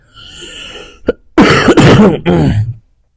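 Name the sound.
cough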